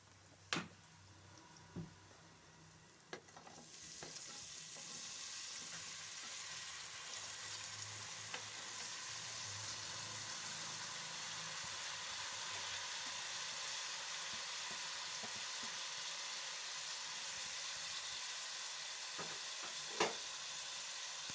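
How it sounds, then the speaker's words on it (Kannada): Mixed vegetables stir-fried on high flame in a pan with golden-browned onions for vegetable pulao, a loud steady sizzle that jumps up after a few seconds and holds, with occasional clinks of stirring. "ಈಗ ವೆಜಿಟೇಬಲ್ಸ್ನೆಲ್ಲ ಹಾಕಿದ ತಕ್ಷಣ ನಾನು ಅದನ್ನು ಚೆನ್ನಾಗಿ ಐ ಫ್ಲೇಮಲ್ಲಿ ಇಟ್ಕೊಂಡು ತರಕಾರಿನ ಮಿಕ್ಸ್ ಮಾಡ್ಕೊತಾ ಇದ್ದೀನಿ"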